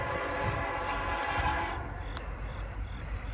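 A Norfolk Southern intermodal freight train led by locomotive NS 4003 rolls past, giving a steady loud rumble of wheels and engine with a brief high tone partway through.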